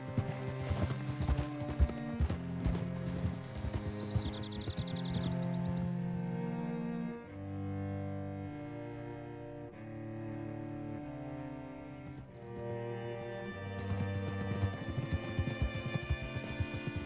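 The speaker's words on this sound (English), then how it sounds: "Hitch your horse up here." Horse hooves clip-clopping steadily in the video game Red Dead Redemption 2, the rhythmic hoofbeats running throughout alongside game music, with a pause midway before the hoofbeats pick up again.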